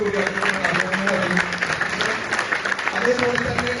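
Audience applause at a company program during a speech in Malappuram, a full crowd clapping continuously and loudly from start to finish with a voice faintly under it.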